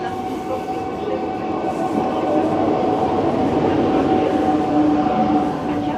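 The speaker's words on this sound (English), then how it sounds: "the train is going to go off about its journey" A Russian Ivolga 4.0 electric passenger train rumbles steadily nearby, its low drone and rail noise swelling slightly as it departs, with faint voices in the background.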